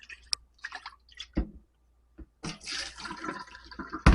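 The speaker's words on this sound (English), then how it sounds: "So I'm going to pour that out." Water poured out of a Vevor water distiller during cleanup, settled residue included: scattered small clicks and drips, then a loud sustained gushing splash for the last second and a half, close and without talk.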